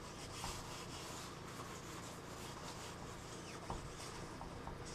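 Wet sanding of latex paint on an aircraft's aluminium skin, using 1500-grit sandpaper wrapped around a kitchen sponge: a soft, continuous scrubbing rasp of close, steady back-and-forth strokes, faint and even with no talk.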